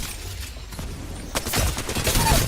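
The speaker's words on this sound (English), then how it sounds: "They're shooting at me." Apex Legends gunfire in a brief burst of rapid shots that starts fairly distant and grows louder and closer in the second half, over a low rumbling game background.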